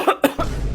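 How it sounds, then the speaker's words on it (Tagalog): A person coughs twice in quick succession, close and fairly loud, followed by a low rumbling background. "Inuubo pa ako."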